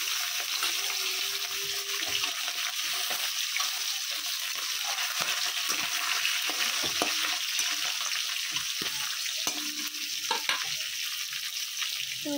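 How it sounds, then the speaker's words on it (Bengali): Hot oil in a wok sizzles and crackles steadily as fish fries, with a dense hiss throughout and a few scattered pops and clinks nearby. "আমি কড়াইতে তেল দিয়েছি দেখো তেতে আছে তেল এখন আমি দিয়ে দেব"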